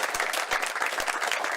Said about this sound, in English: So a round of applause for you guys and the support you do for us.